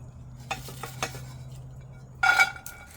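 Vermicelli made from sweet potato noodles is stirred in a pot over hot coals, with a few scraping clinks of a utensil against metal and a brighter burst of clattering near the end over a steady low hum.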